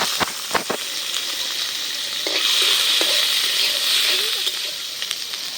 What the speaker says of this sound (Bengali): এর সাথে সেদ্ধ করা লাউ চোলাটাও দিয়ে দিলাম একসাথে তেলের উপর সুন্দর করে ভাইজা নেব